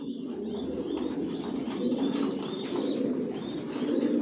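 Racing pigeons coo steadily in a breeding loft, a dense continuous chorus of soft low calls with occasional chirps and brief wing flaps, close and moderately loud throughout.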